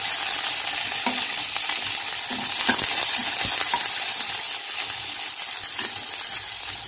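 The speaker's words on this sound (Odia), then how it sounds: "ପିଆଜକୁ ଭଲରେ ଭାଜିଦେବେ।" Chopped onions fry in a hot pan for an Odia raw jackfruit curry, giving a steady, close sizzle and hiss throughout, with occasional scrapes and taps of a stirring spoon.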